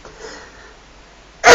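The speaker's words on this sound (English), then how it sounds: "I'm going to sneeze now in a second." One sudden, sharp sneeze bursts out loudly at the very end after a near-silent stretch, close to the microphone.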